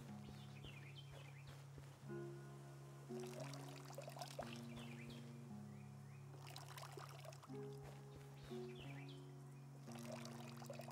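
A watering can pours water in the farming game Hokko Life, a soft trickling flow that repeats under calm background music, quiet overall.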